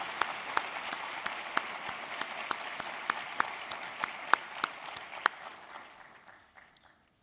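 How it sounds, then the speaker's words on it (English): Applause at an association's awards and address session, heard as sparse, sharp individual claps with one louder, regular clapper standing out. The clapping thins and fades away near the end. "Please give them all a wonderful and rowdy round of applause."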